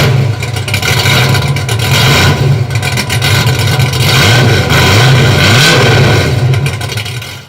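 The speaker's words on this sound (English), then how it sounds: "we're gonna try the 250 Venom Black Widow right here on the 68 wagon right now" A 1968 Chevy wagon fitted with a 250 Venom Black Widow exhaust runs loud and close, its engine rumbling steadily with repeated rev surges rising and falling, and no voices present.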